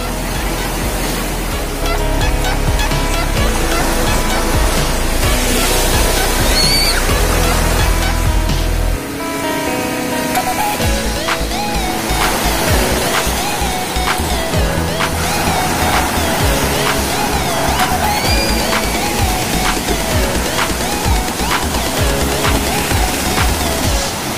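Ocean surf rolling onto Green Bowl Beach in Bali, a loud, continuous wash of breaking waves and broadband roar with no speech.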